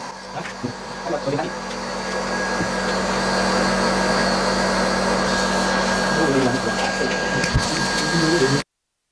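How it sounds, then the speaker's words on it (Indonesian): A TSR Tera DTF printer runs with a steady mechanical whir and hum, with a few clicks and knocks, then stops abruptly near the end. "Ya, udah mulai ngeprint dan proses berlangsung ya."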